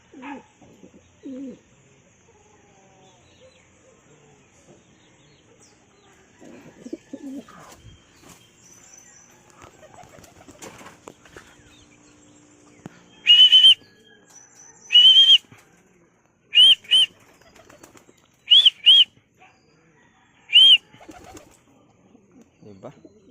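A pigeon, kept by a Filipino pigeon fancier as a street-fight bird, gives a run of loud, sharp calls in quick bursts in the second half, after a quieter stretch of low voices and handling noise.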